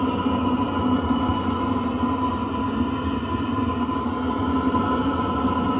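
A small waste oil burner of the latest design roars steadily and evenly from start to finish, a loud, continuous broadband rumble with no talking over it.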